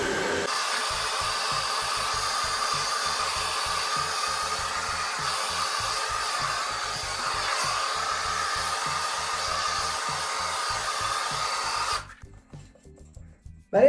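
A hair dryer blow-drying hair during a Round Layer haircut runs at a loud, steady whine for about twelve seconds, its pitch wavering slightly, then cuts off abruptly, leaving faint handling noise.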